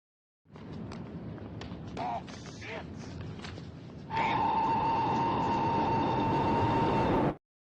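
A train rumbles past with a steady mechanical roar and a sustained high-pitched squeal, preceded by lighter clattering and movement, then cuts off abruptly.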